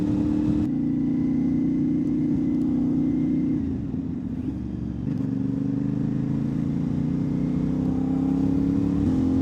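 A CFMOTO 450SS motorcycle engine drones steadily and climbs through the revs, dipping briefly as it shifts before pulling again, heard close and unaccompanied by speech.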